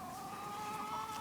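Chickens clucking at a backyard coop, a steady soft mix of fowl calls held at moderate distance for a little over a second, with no talk over them.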